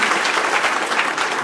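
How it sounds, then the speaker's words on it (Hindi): A hall audience at a BAMCEF conference in Valsad claps steadily, a brief burst of even, dense applause at moderate distance. "जिनके सम्मान में ताली बजा दीजिए"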